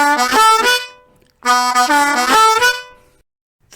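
A blues harmonica plays a phrase jumping from the 1 draw to the 4 blow, in two bursts of bright reedy notes with a short gap between, close and solo.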